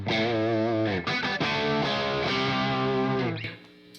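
A distorted electric guitar through a Marshall JCM 800 amp, no reverb, rings out sustained chords and bends with crunchy tone, loud and close, fading at the end.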